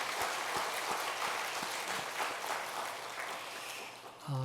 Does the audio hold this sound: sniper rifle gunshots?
no